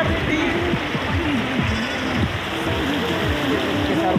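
A river near the Bhutan border at Saralpara rushes along in a steady broadband wash, with voices talking over the flowing water throughout.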